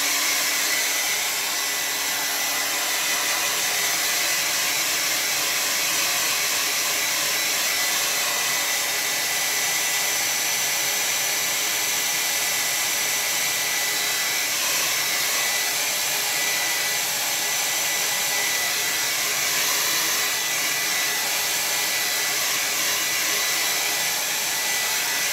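A hair dryer blows steadily on a watercolor painting on tinted Bockingford paper, a loud continuous whirring rush that holds unbroken for the whole stretch.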